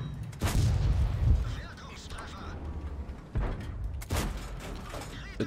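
German tank gun firing in World of Tanks, a couple of heavy booming shots with rumbling tails and mechanical clatter, sitting under someone talking.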